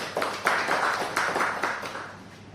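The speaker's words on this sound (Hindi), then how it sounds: "एक बार जोरदार तालियां हो जाए।" Audience applause at a Hindi book launch ceremony, a moderate burst of clapping from a seated crowd that swells in a few waves, then gradually thins and fades.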